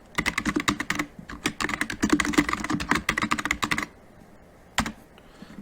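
Fingers type quickly on a computer keyboard in a classroom lab, giving a dense run of close clicks for about four seconds. The keys then go quiet, and one more short burst of taps follows.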